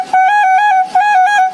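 Two loud, sustained horn-like blasts sung by a human voice imitating a truck horn, each with a wobbling pitch, close and clear.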